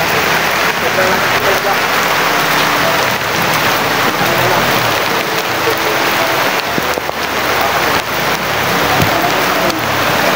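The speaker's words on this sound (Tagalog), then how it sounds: "Sabi talagang ulan." Heavy rain pours steadily, a dense loud hiss of drops drumming on a surface without pause throughout.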